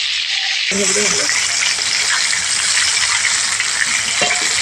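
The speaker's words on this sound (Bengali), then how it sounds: "আবার এগুলোকে একটু নাড়াচাড়া দিয়ে ভেজে নিতে হবে লেগ পিস যেহেতু বন্ধুরা তাহলে ভাজতে একটু টাইম লাগবে" Chicken leg pieces frying in hot oil, a steady loud sizzle that starts abruptly and continues throughout, close up.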